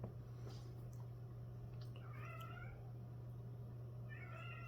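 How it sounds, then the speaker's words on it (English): A cat meows plaintively twice, faint and somewhat distant, over a steady low electrical hum. "You hear my cat crying?"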